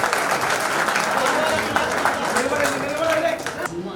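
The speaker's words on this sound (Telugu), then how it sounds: "Claps claps." At a school batch reunion at a municipal high school in Proddatur, a crowd claps steadily for several seconds, fairly close, with voices mixed in before the clapping trails off.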